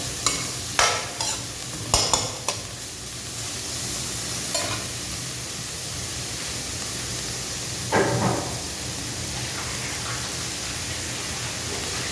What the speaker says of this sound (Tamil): நல்லா எண்ணெயில் ஃப்ரை ஆகிடுச்சு